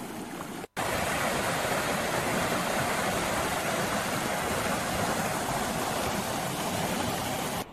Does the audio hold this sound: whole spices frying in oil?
no